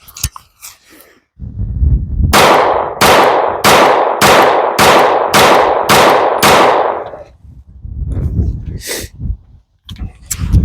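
Shots from a 1911 Officer pistol: about eight loud, sharp gunshots in an even, rapid string, each ringing out briefly, followed by clanks and handling noises and a few more sharp reports.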